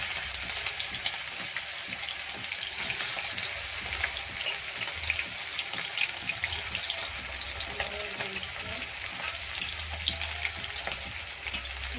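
Chicken pieces frying in very hot oil give a steady, bubbling crackle like light rain, with a few low clunks and stirs, heard close up and alone for the whole stretch.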